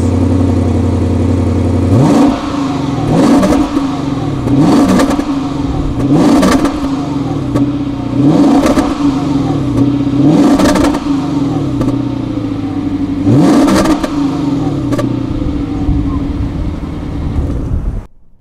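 A Lexus RC F's 5-liter 477-horsepower V8 with an aftermarket muffler idles, then revs hard several times in a row, each rev rising and falling back with a deep, fairly clean exhaust note, close by.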